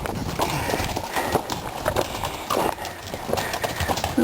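Horse hooves clip-clop on the rocky Icehouse Canyon hiking trail, an uneven string of close, sharp knocks with faint rustling between steps.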